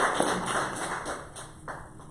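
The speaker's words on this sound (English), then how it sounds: "Give him a round of applause." An audience at a Family First Life sales event claps steadily throughout, a dense patter of hands with a loud thump early on and the clapping holding level to the end.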